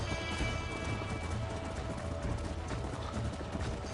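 Hooves pound as a horse gallops in Red Dead Redemption, a fast, steady clip-clop rhythm close by over a busy outdoor game background.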